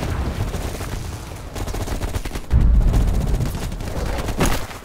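Rapid bursts of automatic gunfire and heavy booming shots in a Vietnam-era firefight in Call of Duty, dense and loud throughout with a sharp blast midway.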